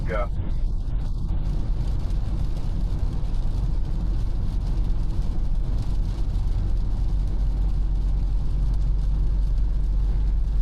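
A Dacia Jogger TCe 110 seven-seat car picks up speed on the road, its steady low engine and road rumble droning continuously from inside the cabin while someone talks over it throughout.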